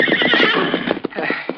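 A horse whinnies loudly and close in a 1943 Lone Ranger radio drama, a long shrill neigh with quick hoof clip-clops running underneath.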